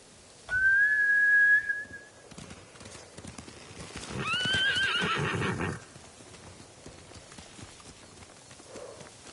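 In the Ghost of Tsushima game, a samurai horse lets out a loud, close whistle-like call, then a second horse neighs and whinnies while hooves clip-clop over a few seconds before fading.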